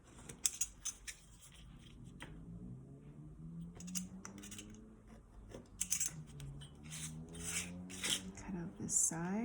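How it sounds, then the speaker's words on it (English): Scissors cutting out a wedge for a box, with sharp snips and rustling, and a person talking softly throughout, close by in a quiet room. "So let me cut that out."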